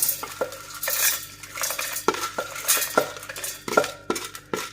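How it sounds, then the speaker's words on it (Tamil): Curry leaves, roasted, being spooned from a pan into a mixer jar: a run of sharp metallic clinks and scrapes of a spoon against steel, irregular and close, with no talk. "இப்போ இதை நம்ம மிக்சி ஜாரில் மாற்றிக்கலாம்"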